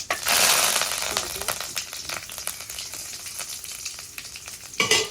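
Loud, close sizzling of mustard seeds frying in hot oil with asafoetida, with dense sharp crackles and pops throughout and a louder burst of sizzle near the end.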